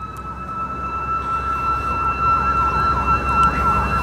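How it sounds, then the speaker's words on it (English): Emergency vehicle siren wailing outside a parked 1995 American Cruiser Class B camper van, a steady sweeping tone that swells slightly as it passes at moderate distance. "Sorry about the sirens there,"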